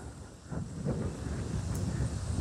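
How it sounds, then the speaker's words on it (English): Strong, gusty wind in the Khao Koh mountains during heavy rains: a continuous low roar and buffeting rumble on the microphone, steady and close, with no one talking. "because it's so windy"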